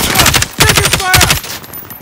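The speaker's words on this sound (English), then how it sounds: "Taking fire!" Rapid automatic gunfire from a Call of Duty: Modern Warfare match, loud bursts of fusillade in quick rhythmic volleys, then tapering off into quieter scattered shots near the end.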